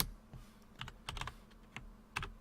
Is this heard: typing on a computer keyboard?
yes